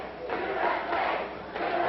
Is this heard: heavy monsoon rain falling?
no